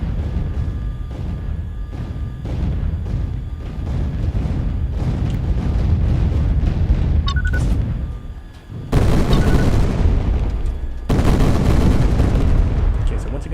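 Flak cannons fire in Tiny Combat Arena, a steady stream of loud booming bursts and rumbling explosions that swell sharply toward the end, layered under in-game noise.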